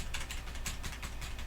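Tab key on an old PC's keyboard pressed over and over in quick succession, a run of close, crisp clicks with no talking.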